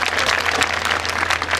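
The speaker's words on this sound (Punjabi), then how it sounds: "ਜਿਹਨੂੰ ਜਿਹਨੂੰ ਮਜ਼ਾ ਆ ਰਿਹਾ ਤਾੜੀ ਲਾ ਦਿਓ" An audience claps at a live devotional fair performance for Baba Balaknath Ji, a broad, continuous burst of applause, loud and dense, with a low steady hum underneath.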